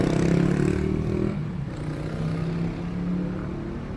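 Yamaha motorcycle engine with about 96,000 km on it, heard while riding: a steady low drone that is louder at first and then settles to a level hum, with no voices.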